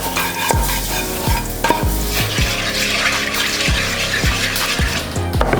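A spoon stirs butter-sautéed flour into roast chicken pan juices for gravy, a steady sizzle under repeated scraping strokes, close and fairly loud with no voices.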